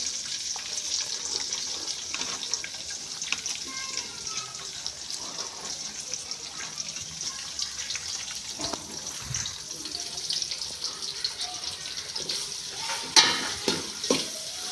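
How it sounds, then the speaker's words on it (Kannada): Chopped onions sizzle in hot oil in a pan with curry leaves, a steady crackling fry with occasional scrapes and clinks of a spoon stirring, close and continuous. "ಹೆಚ್ಚಿಟ್ಕೊಂಡಿರೋ ಈರುಳ್ಳಿ ಹಾಕ್ತಾಯಿದ್ದೀನಿ."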